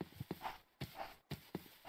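A horse in the Minecraft RLCraft game, its hooves clopping in quick, sharp bursts repeating several times in under two seconds, fairly quiet with no talk over it.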